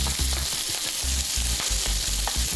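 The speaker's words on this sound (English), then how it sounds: "Now we're gonna fry off this paste, scrape the paste into the side of the pan." Garlic and ginger paste frying in oil over medium heat while being stirred and scraped to the side of the pan, a loud continuous sizzle with rhythmic low scraping strokes, no voices.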